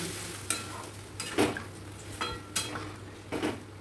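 Water goes into a pan of frying potato and pointed gourd curry, bringing soft sizzling bursts and a few clinks of a spoon against the pot, close and moderately quiet.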